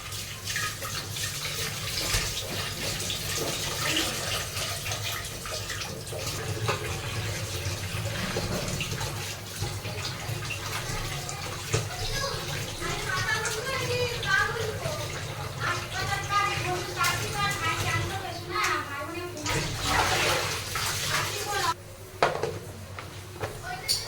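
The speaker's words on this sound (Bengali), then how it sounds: "এখানে আমি ওই মাছ যেগুলোতে ধুলাম সেগুলো সব মেজে নিচ্ছি" Fish containers, including a large tiffin carrier, are scrubbed and rinsed under running tap water in a home kitchen, a steady flow with clatter of scrubbing and handling throughout, and a voice talks over it.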